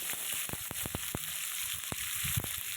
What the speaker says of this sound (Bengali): আদা রসুনের পেস্ট দিয়ে ভালো করে মশলাটাকে কষিয়ে নেব